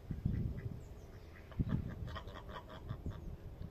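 Ducks and geese in a farmyard flock give repeated honks and quacks, several birds calling in uneven bursts at moderate distance and fairly faint.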